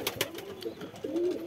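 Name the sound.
pigeon cooing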